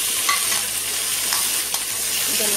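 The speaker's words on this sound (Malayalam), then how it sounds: "ഇഞ്ചിയും വെളുത്തുള്ളിയും ഒന്ന് മൂത്ത് വരട്ടെ" Ginger and garlic frying in an oil-filled pan for chana roast, a steady close sizzle with occasional stirring scrapes, no talking.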